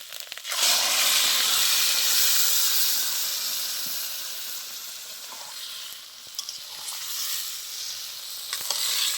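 Boiled greens (pui shak) and their cooking water go into a hot pan of fish roe and fried potato and pumpkin, setting off a loud, steady sizzle that slowly fades, with a few faint clinks of stirring.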